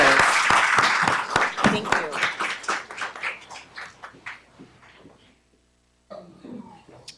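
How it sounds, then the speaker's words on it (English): An audience at a school board meeting applauds a group of honored scholars: dense, loud clapping that thins into scattered claps, fades away, then a short voice comes in near the end. "Let's give it one big round of applause for these amazing scholars."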